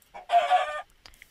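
A video game chicken lets out a single short, squawking cluck, loud and close, followed by a faint click.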